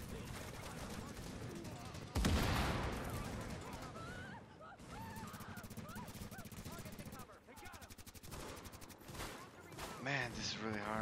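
Rapid gunfire rattles in The Division video game as a hacked turret fires, dense bursts of shots over a busy game mix with chirping effects, loud and close, with someone talking over it.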